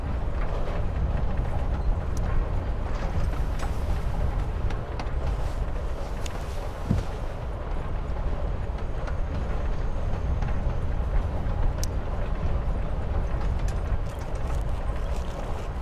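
Steady rumbling ride noise inside a moving train in the video game Life is Strange: Before the Storm, a continuous low rattle and hum that carries through the whole stretch with no voices.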